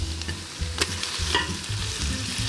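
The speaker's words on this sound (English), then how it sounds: "Fry this up for a second" Tomatoes, parsley and capers frying in a pan for a mussel dish, a loud close sizzle broken by repeated scraping stirs and a couple of sharp spoon knocks.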